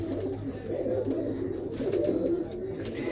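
Pigeons coo continuously in a low, throaty rolling murmur, several birds close by, with no clear speech.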